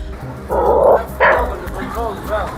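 A dog gives a few loud, close barks and yips, ending in whiny, rising whimpers, mixed with people talking nearby.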